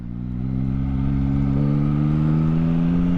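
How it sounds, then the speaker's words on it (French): A 2021 Yamaha MT-09 SP three-cylinder motorcycle engine held at a steady, fairly loud rev, its tone rising slightly and then sustaining, close by with no talk. "Et il y a du son hein, quand même, on reconnaît le 3 cylindres."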